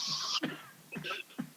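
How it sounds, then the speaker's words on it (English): A person with a cold coughs several times in quick, harsh bursts, close and fairly quiet, with short pauses between them. "I was coughing."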